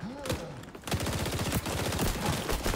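Rapid hip-fire gunfire in the XDefiant video game, a loud, fast burst of shots that keeps going for about two seconds after a brief lead-in of other game sounds.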